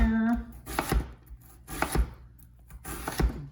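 A knife dices an onion on a cutting board in three crisp, spaced chopping strokes, close and distinct, with quiet pauses between and no talking.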